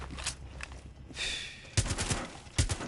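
Gunfire in Rainbow Six Siege on PS4 comes as a few short, sharp bursts of shots against a quiet game background, moderately loud and without talk over it.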